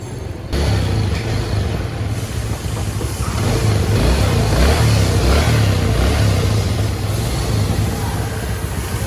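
A restored Yamaha Vega motorcycle engine runs close by in a steady, smooth throbbing putter that starts abruptly and swells slightly mid-way, with no voices.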